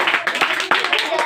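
An audience claps for Rabia Khatoon as she takes the stage at a community program, a dense patter of hands filling about a second of crowd noise.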